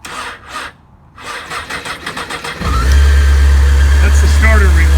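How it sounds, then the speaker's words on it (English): A 2003 Honda CBR 600 F4i motorcycle has a balky starter relay; after rhythmic cranking pulses the engine catches into a loud, steady low idle, close by, with voices heard over the start. "That's the starter relay."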